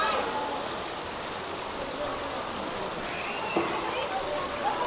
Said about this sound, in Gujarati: જો વરસાદ આવી ગયો. સિઝનનો હારામાં હારો પહેલો.